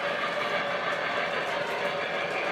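A model railroad train passes a steel mill, giving off a steady, even mechanical rumble and hum at constant loudness throughout, with no speech.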